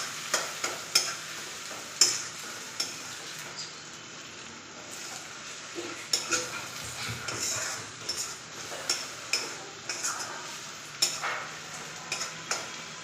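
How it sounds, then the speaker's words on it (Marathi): Powdered spices sautéing in a pan for dhaba-style egg bhurji: a steady soft sizzle with a utensil scraping and clinking against the pan in irregular strokes, close and alone without talk. "आपण घेतलेले सगळे पावडर मसाले व्यवस्थित परतून घ्यायचे."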